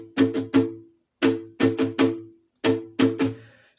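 Acoustic guitar strumming the chorus rhythm of a song: three groups of quick, bright strummed chords separated by short pauses, close and clear with no voice.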